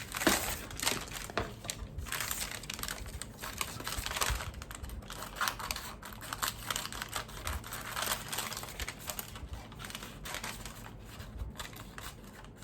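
Scissors cut out a traced paper sewing pattern for a pyjama shirt, giving steady close snipping and rustling paper crinkles in an uneven rhythm for several seconds, with no talk.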